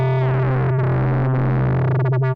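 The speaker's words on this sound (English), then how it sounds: "It definitely goes into audio rate because you can use this as an oscillator" A Moog Grandmother synthesizer plays with its LFO pushed to audio rate, giving a loud, sustained buzzing tone thick with metallic sidebands and a gritty modulated edge. The tone holds steady, then cuts off abruptly.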